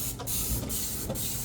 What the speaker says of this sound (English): I'm gonna spray this first